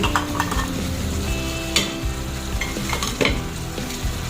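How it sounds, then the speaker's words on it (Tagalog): Vegetables such as carrots and potatoes are stirred into a pan for Ilocano-style pininyahang manok, pineapple chicken, with steady close sizzling and frying plus scraping and clinking of a utensil against the pan. "pwede na natin ilagay yung ating mga gulay"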